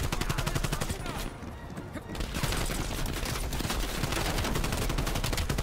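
Rapid, dense gunfire from a video game hostage scene, loud continuous bursts of rifle shots with a brief lull before firing resumes.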